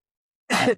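A single short, sharp sneeze bursts out of silence and ends abruptly.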